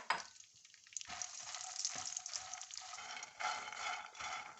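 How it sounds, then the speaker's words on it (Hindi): Fox nuts (makhana) frying in a spoonful of ghee in a pan give a steady close sizzle, with stirring scrapes and crackles throughout and no voices. "इसमें ये जो है ना मखाने इनको हम फ्राई करेंगे"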